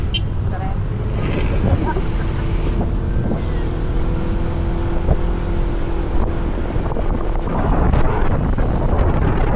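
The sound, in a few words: motorcycle engine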